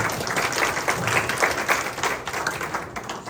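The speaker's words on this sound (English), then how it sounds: "that's the applause you get even before you get started" Warm applause from an audience at a community history program about Lost Cove, North Carolina, a room full of hands clapping steadily and fairly close for several seconds.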